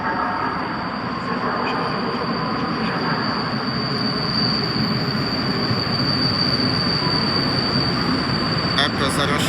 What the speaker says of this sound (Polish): zapowiedziano wjazd pociągu z Kijowa